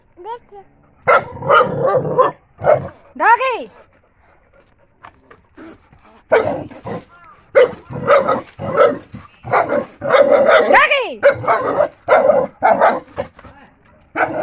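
A dog barks and yips repeatedly in short, loud bursts, with panting and a few whimpers, while a person talks nearby.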